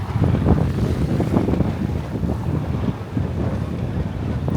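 Wind gusts across an outdoor microphone at sunset, a continuous low rumbling buffet that swells and eases over a few seconds.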